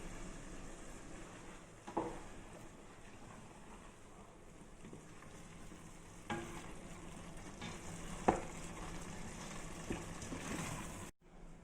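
Mutton mince sauce fries and bubbles in a pan while being stirred, a quiet steady sizzle broken by a few scraping spoon strokes, with no talking.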